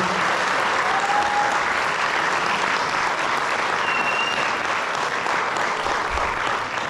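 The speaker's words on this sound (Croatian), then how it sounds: "Nagradimo muzičku sekciju jednim velikim aplauzom." Sustained applause from a concert audience for the music section of an ethno group at its seventh anniversary concert, a full, even wash of many hands clapping for several seconds.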